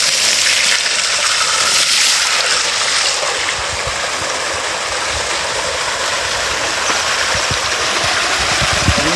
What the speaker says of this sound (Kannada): ಎಷ್ಟು ಫೋರ್ಸಾಗಿ ಬರ್ತಿದೆ ನೀರು